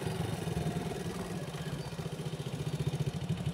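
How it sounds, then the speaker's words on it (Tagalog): A motorcycle engine runs steadily and close by at Forest Lake in Bauang, La Union, a continuous low rumble with a regular pulsing beat that grows a little stronger toward the end, with no talk over it. "Pasensya na po, maingay dahil motor."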